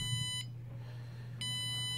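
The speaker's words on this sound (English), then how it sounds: "This is just like an alarm, for example." A small piezo buzzer running an alarm routine gives a shrill, steady electronic tone that cuts out for about a second and then resumes, over a constant low hum.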